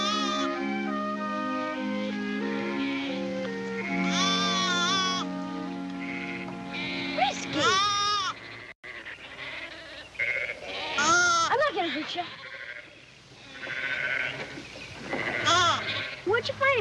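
Sheep bleat repeatedly in a flock, overlapping wavering calls near and far, with a voice briefly talking in between.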